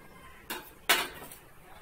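A metal frying pan set down on a stovetop in a home kitchen, two quick clanks close by, the second louder, in an otherwise quiet room.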